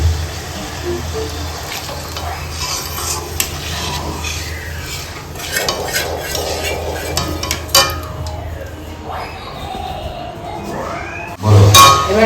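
Chilli chicken ingredients mixed in a bowl: soft wet stirring and squelching with occasional clinks of utensil against the bowl, close and continuous, ending with a louder clatter.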